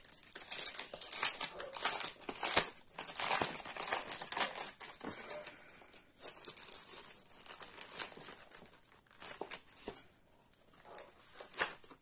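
A pack of double-sided scrapbooking paper is opened by hand, with repeated close, crisp crinkling and rustling of plastic wrap and sheets in irregular bursts for several seconds.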